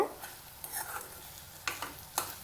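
Tomatoes sauté in a pan for garlic kulambu, giving a soft, steady frying sizzle with a few sharp scrapes and taps of a spoon stirring, close and fairly quiet, with no talking.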